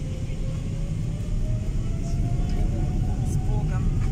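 Jet airliner taking off, heard from inside the passenger cabin: a dense, steady engine roar and rumble fills the whole span, rising slightly with a faint whine above it.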